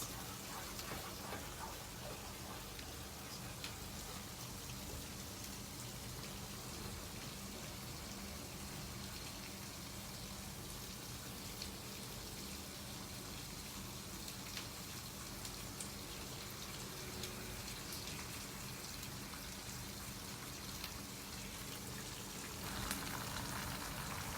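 Food roasting in a pan in a home kitchen, a steady, continuous sizzle and crackle at moderate level throughout, with no talking.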